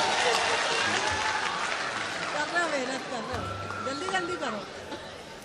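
An audience at a Hindi poetry recital, a mushaira in Mubarakpur, Azamgarh, claps in a dense, sustained wash of applause, mixed with crowd chatter and voices talking over it.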